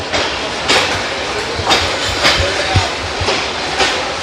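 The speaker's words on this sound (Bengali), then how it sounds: "আমাদের নামিয়ে দিয়ে পারাবত এক্সপ্রেস চলে যাচ্ছে।" The Parabat Express pulls out of a station. The wheels beat out a loud, regular clickety-clack over a continuous rumble, with no one speaking.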